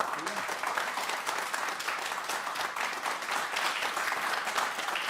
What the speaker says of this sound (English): could we just keep the applause coming for this remarkable band ensemble of players?